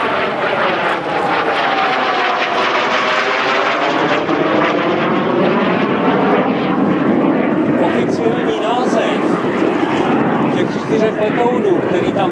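An aerobatic propeller airplane drones loudly overhead at an air show, its engine pitch sweeping as it passes and maneuvers, steady and close for the whole stretch.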